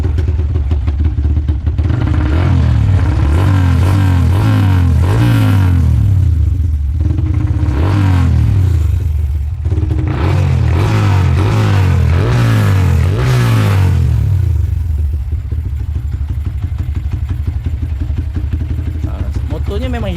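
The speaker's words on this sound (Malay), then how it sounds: "motor ni ada masalah. Idle dia tak cantik. Dia keluar macam sebiji-sebiji" A motorcycle engine converted to fuel injection idles loud and close, its putter rising and falling unevenly in uneven surges; a voice talks over it at times.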